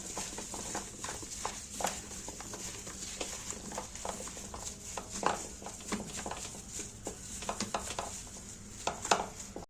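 Cut potato pieces are tossed with a marinade in a baking tray for chicken, giving a steady wet patter of soft stirring and scraping, close up with no talk.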